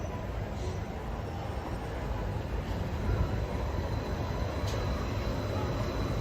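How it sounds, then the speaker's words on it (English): The Disneyland monorail, Monorail Blue, rolls past with a steady, broad rumble and whoosh at moderate distance, holding fairly even across the clip with faint crowd ambience around it. "Here she comes. She's Beauty and she's Grace. She's Monorail Blue."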